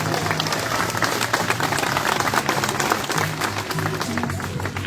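An audience claps steadily throughout at an outdoor animal show at a wildlife park, applauding a sea lion's performance, with dense continuous applause and a few faint voices in the crowd.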